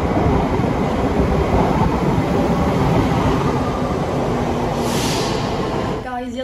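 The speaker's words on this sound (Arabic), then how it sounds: "عاد دابا باش لقيت المترو." Metro train in a station, a steady loud rumble of wheels and motor filling the platform, with a brief brake hiss near the end and the sound settling as the train slows.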